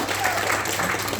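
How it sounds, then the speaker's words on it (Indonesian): Brief audience applause during a training talk, a short burst of crowd clapping, moderately loud and dense, lasting about a second. "Tepuk tangan juga boleh."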